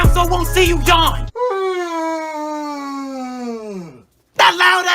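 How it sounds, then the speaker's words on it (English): A loud, long, drawn-out human yawn slides downward in pitch for about three seconds, with bursts of talking just before and after it. "That loud ass yawn."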